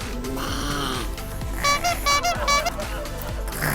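A person mimics snoring with their voice, giving a few rough, buzzing snorts in a short rhythmic burst after a steady low rumble.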